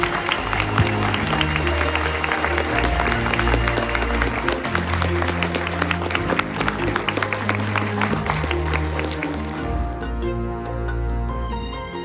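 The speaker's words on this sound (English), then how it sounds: "I just really want a round of applause for my wife" An audience gives a round of applause for a man's wife, a dense sustained clapping that runs for most of the stretch before thinning out near the end, with some crowd noise underneath.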